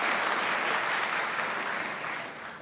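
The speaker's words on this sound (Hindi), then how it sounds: "भाई आप जिसको लगता है लाइबा ने अच्छा बजाया वो तालियां बजाएं।" A studio audience at a Pakistani comedy talk show claps for an actress's performance, a thick burst of applause that gradually thins and fades toward the end.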